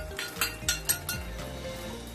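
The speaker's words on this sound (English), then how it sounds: "Stir fry." Kangkong being stir-fried in a pan at a hawker stall, with a quick run of metallic clinks and scrapes from a utensil against the pan over a steady background hum, no talk.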